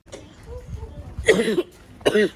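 Two sharp coughs, close by, about a second apart, with faint background murmur before them.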